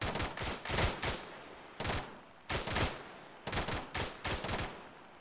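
Gunshots in ARMA 3 ring out as several loud, booming reports, some in quick pairs, each with a long echoing tail, spaced irregularly with no talk over them.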